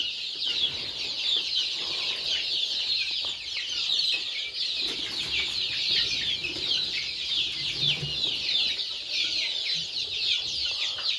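Native chickens in a poultry shed cluck and squawk continuously, a dense close flock chatter with occasional wing flaps and no talk.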